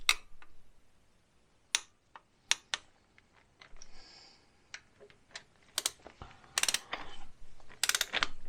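Torque wrench tightening timing chain tensioner bolts on a Jaguar V8 engine, giving sharp intermittent metallic clicks and ratcheting bursts close up, with a denser cluster of clicks toward the end.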